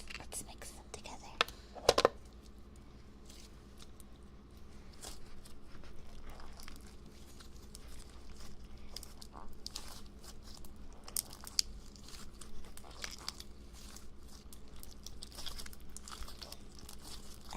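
Crunchy slime is kneaded and folded together with clear slime, producing soft, close crackling and crinkling pops, scattered sharper crunches, and a faint whispered voice beneath.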